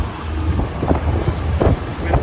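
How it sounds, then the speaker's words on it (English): Wind blowing over a sailboat on Lake Michigan: a steady low rumble of wind noise with gusty swells and light water sloshing, close and continuous, no talk. "Wind's picking up a little bit."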